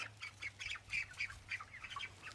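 Chickens on a homestead, including meat birds and laying hens, give a run of rhythmic high squawks and clucks, roughly a dozen in quick succession. The calls come from close by over a low steady hum.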